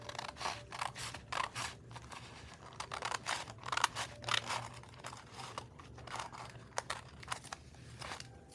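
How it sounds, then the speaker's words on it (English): A trimmer cuts along the edge of a flip flop journal's lining, giving repeated soft crunching, rasping slices at an uneven rhythm, close and quiet over a faint low hum. "Let me just trim the edge here."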